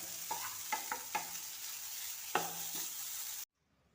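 Cooked vermicelli is stirred in a pan, with a few scraping strokes and light sizzling before everything cuts to silence near the end.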